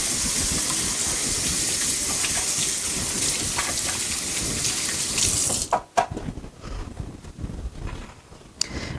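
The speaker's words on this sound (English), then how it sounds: "Gonna wash my hands again." Running tap water gushes steadily into a sink for several seconds, close and full, then cuts off, leaving a few drips and light splashes as hands are rinsed after handling raw tuna and salmon.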